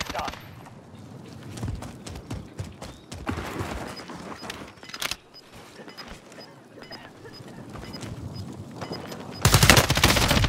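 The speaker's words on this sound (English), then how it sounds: "Someone's shooting him from back behind, to your left as well." Bursts of automatic gunfire in a Call of Duty quads match, sharp cracks scattered through the first half and a dense loud volley at the end, with players talking over it.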